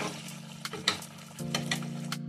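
Chicken curry with garam masala powder being stirred in a pan, a soft sizzle under a few scraping, clattering strokes of a spoon, close and fairly quiet, with a low hum running beneath.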